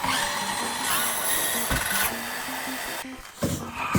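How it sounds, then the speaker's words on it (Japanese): A circular saw cuts through a board, humming at a steady, fairly loud pitch with a slight rasp that shifts as the blade works, and then dips briefly near the end. "この部分を丸ノコでカットします"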